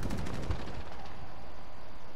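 Gunfire from Call of Duty: Modern Warfare with a UMP-45 crackles in a quick rapid burst, loud and up close, then trails off into a fading echo.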